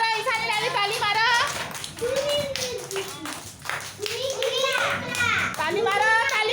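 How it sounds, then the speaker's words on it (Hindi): Preschool children at an anganwadi centre clap their hands in short bursts of sharp, close claps. A sing-song voice and children's chatter run throughout. "ताली मारो ताली मारो ताली मारो"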